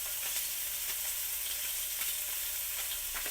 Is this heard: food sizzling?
yes